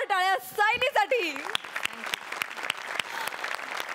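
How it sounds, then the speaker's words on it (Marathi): A studio audience breaks into applause for a performer named Sayali on a comedy stage show, a host's voice first, then a steady wash of clapping with a few sharp individual claps. "जोरदार टाळ्या सायलीसाठी."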